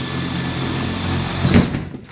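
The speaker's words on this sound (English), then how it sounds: "get yourself a drill bit bigger than the jigsaw blade" A power drill runs steadily, boring a starter hole for a jigsaw blade, a close, even whine that bogs briefly near the end before stopping.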